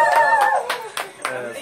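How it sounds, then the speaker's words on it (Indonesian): Audience clapping at a leaders' Hari Raya gathering aboard a Mediterranean cruise, a few sharp hand claps bursting out over a fading sung or spoken voice, fairly close and moderately loud. "Tepuk tangan sikit."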